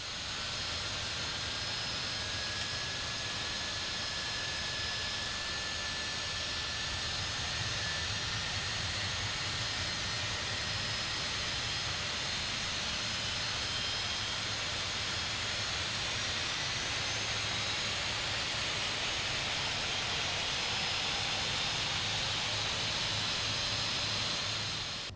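The simulated jet engine of a Cessna Longitude business jet spools up in Microsoft Flight Simulator, a loud continuous turbine roar and hiss with a thin whine slowly rising in pitch, steady throughout.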